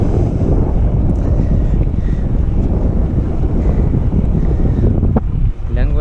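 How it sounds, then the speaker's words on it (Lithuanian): Strong headwind buffets the microphone while cycling, giving a loud continuous roaring rumble that briefly dips near the end, with no clear talk. "dar priešinis vėjas eilinę dieną iš vis apsunkina kelionę iki maksimumo"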